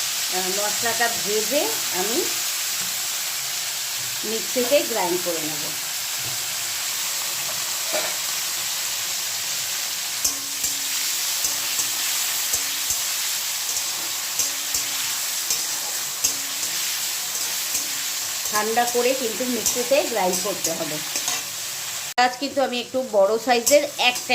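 Onion and garlic fry together in a pan, giving a steady soft sizzle throughout, with someone talking over it in short bursts at the start and end.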